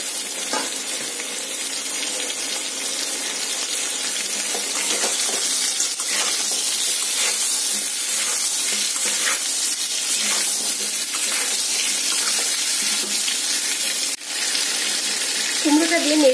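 Pumpkin pieces drop into a pan of frying prawns, setting off a loud continuous sizzle and hiss close up, with light stirring scrapes and a brief dip near the end, and no talking over it.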